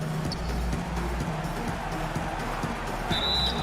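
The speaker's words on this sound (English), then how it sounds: "And he gets the whistle" A referee's whistle at a EuroLeague basketball game cuts through a busy arena's crowd noise with a brief, shrill blast near the end.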